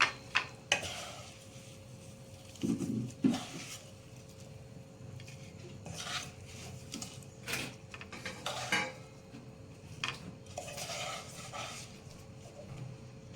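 Cooked semolina and poha tikki being lifted from a pan onto a serving plate, with scattered light clinks and scrapes of a utensil against metal and a few sharper knocks, close and fairly quiet over a steady hum.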